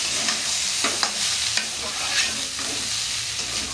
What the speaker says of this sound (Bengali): এই নারিকেলটাও একটু কষে নেব হালকা